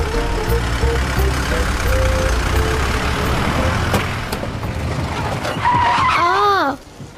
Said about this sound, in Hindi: हाँ, टायर पंचर हो गया